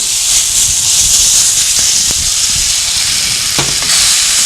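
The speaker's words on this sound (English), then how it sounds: "As you can see, the pan is pretty hot, so that's smoking already, and in goes the tofu." Tofu frying in a hot, smoking pan with two tablespoons of oil, a steady loud sizzle and hiss filling the whole stretch, with a few brief stirring knocks near the end.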